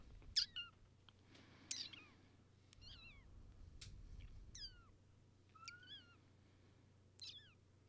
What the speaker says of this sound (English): This is the kitty.